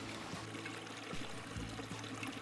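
A creek flows steadily at a lunch stop partway along a backpacking route in Crater Lake National Park, giving a constant soft wash of running water with gentle trickling and low gurgles throughout, no voices.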